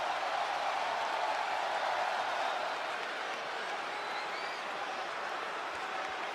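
Steady crowd noise from a wrestling arena in a WWE 2K video game, a broad continuous roar with a few faint whistles and cheers, sustained and fairly loud throughout.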